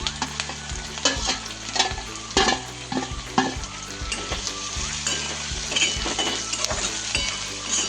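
Green chilies and onion sizzle steadily in a hot oiled pan for a traditional Maharashtrian gholchi bhaji, with a spatula stirring and clinking against the metal at close range, loud and continuous with no voice.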